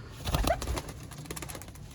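Blue-tailed (neeldum) flying pigeons coo softly nearby, a faint low burble over a couple of seconds.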